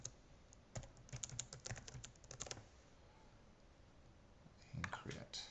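A password is typed on a computer keyboard in a quick burst of close, clicky keystrokes, then a pause, followed by a few more clicks.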